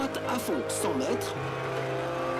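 A Ford Fiesta rally car in WRC 10 on a special stage, its engine droning and shifting pitch with brief tire squeal, heard under a commentator's continuous talk.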